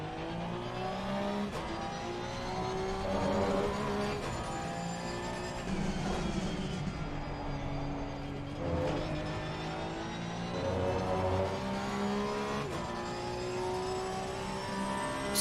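A Porsche 992 Cup race car in Assetto Corsa Competizione racing at Kyalami, its engine note rising and falling steadily through gear changes as it winds up and drops on each straight and corner, loud and continuous.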